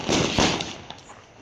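A firecracker bursts during a village Diwali celebration, a loud close bang followed by a second crack and a fading crackle, all within a second and a half.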